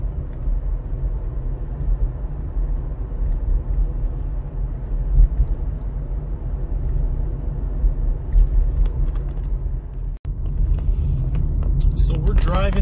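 A car drives down Commercial Street in the small town of Sedgwick, Kansas, its low engine and road rumble steady from inside the cabin, briefly dropping out near the end, with a voice talking over it.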